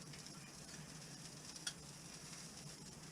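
Prime rib steak sizzles quietly in a hot pan after a flip, a faint, steady hiss of frying with one brief tick partway through and no voices.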